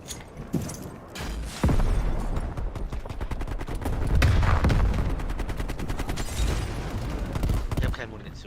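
Rapid automatic gunfire rattles in bursts during a Call of Duty Cold War match, loud and close, with a voice speaking German over the shooting.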